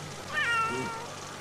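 A cat in the video game The Sims 3 lets out a single clear meow, rising and then trailing off, close and distinct over a quiet background.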